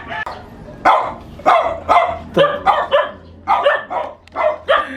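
Dog barking in repeated sharp bursts, about a dozen barks over a few seconds, fairly close and loud, with a faint low hum underneath.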